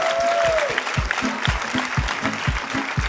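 Audience applause at a live Armenian comedy league show, a dense, steady clapping crowd with a rhythmic pulse running loud and close through the whole moment.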